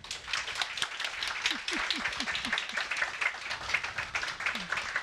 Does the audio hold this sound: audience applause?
yes